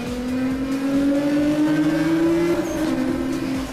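Nissan GT-R engine in Need for Speed Most Wanted, a loud, close, steady engine drone with rising pitch as the car accelerates, alone with no talk.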